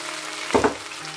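Carrot and green beans hit a hot pan for chicken DG with a brief double burst of sizzling and clatter over a low steady frying hiss, close up and short, with no talking.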